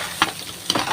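Ingredients for paneer butter masala frying in a pan, a continuous close sizzle with two quick scraping stir strokes, no talk.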